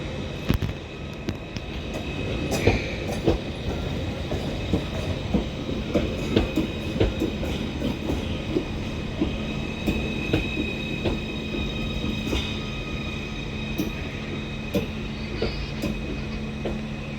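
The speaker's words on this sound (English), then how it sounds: "Triple 7045 terminates in with the 1441 Merseyrail service from Liverpool Central" A Merseyrail Class 777 electric train rolls into Chester station, with steady rumble, rhythmic wheel clicks over rail joints and faint squealing tones, loud and close throughout.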